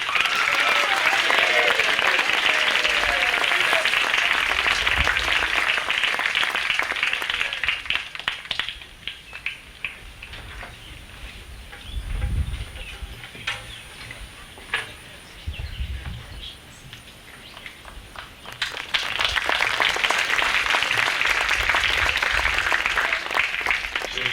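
Audience applause at a school graduation award ceremony, a dense, sustained wash of clapping that fades into quieter room sound midway, then swells back loudly for a second round.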